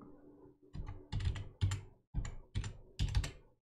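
Password keys tapped on a computer keyboard at a Mac login prompt, heard as close, distinct clicks in short bursts separated by brief pauses, with no voices.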